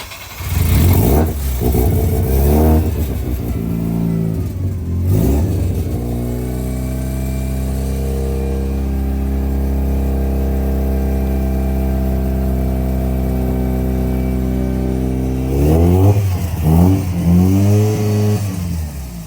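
A Mazda FC3S rotary engine with a large exhaust leak revs in bursts, settles into a long steady high hold, then snaps through several more sharp revs near the end, loud and close.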